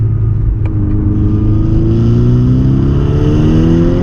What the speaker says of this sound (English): See if I brake boost. See what's gonna give me if I brake boost.